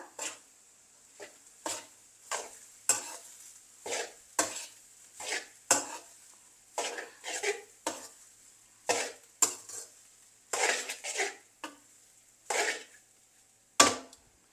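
Prawn fried rice with salt, part of an egg fried rice with prawns and pineapple, is stirred in a pan. A steady run of close scraping, tossing strokes comes about once a second, with no talk.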